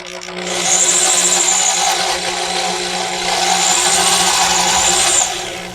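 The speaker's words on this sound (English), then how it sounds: "I'm pushing with the drill a little bit, but not too much" A steady whine of a power drill boring through a banjo ukulele runs continuously, close up, in two sustained bursts with a slight dip between them.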